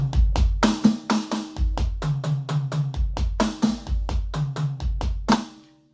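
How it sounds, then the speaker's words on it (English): A busy drum fill, kicks and snares pounding steadily, closing on a heavy flam on beat four with cymbal wash that rings out and fades. "And then this one ends with a big flam on 4,"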